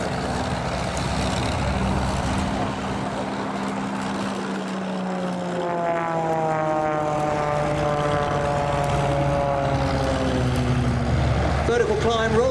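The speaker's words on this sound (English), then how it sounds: "So the power's gone on. Up comes the tail and straight away airborne." A propeller aircraft takes off at an airshow, its engine droning loudly under full power with a rising, shifting pitch as it climbs away, while a commentator talks over the public address.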